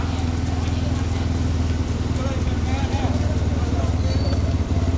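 Bullocks pulling a cart in a race give a continuous clatter of hooves over a dense roar of engine-like rumble and crowd noise, loud and close throughout.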